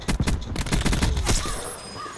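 Rapid gunfire from the Call of Duty Black Ops 4 video game, dense bursts of shots packed into the first second and a half, then trailing into quieter game ambience.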